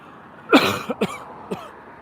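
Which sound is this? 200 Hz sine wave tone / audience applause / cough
cough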